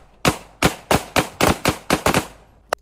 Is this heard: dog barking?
no